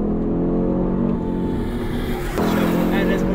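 A 2022 Audi RS 3 driven in RS performance mode holds a loud, steady engine drone from close by, shifting in tone partway through, with a voice faintly present underneath.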